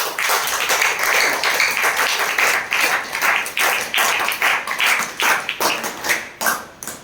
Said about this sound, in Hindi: उसके पहले जोरदार ताली आप लोग बजाएं।